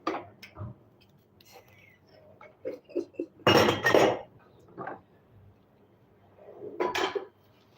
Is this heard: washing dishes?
yes